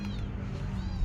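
A kitten meows in short, fairly soft cries close by, with faint voices and background noise underneath.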